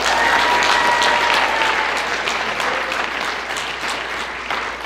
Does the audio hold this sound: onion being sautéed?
no